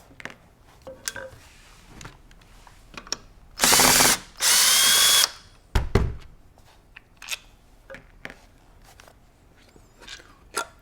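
A power screwdriver or drill backing out Phillips head screws from the Progressive Comfort assembly in a Benelli Lupo bolt-action rifle stock, two loud whirring bursts close together amid quieter handling clicks and taps.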